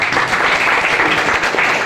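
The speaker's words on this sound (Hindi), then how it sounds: "एक बार जोरदार ताली होनी चाहिए सच में।" Audience applause at a sales event, steady dense clapping for about two seconds at moderate loudness with no voices over it.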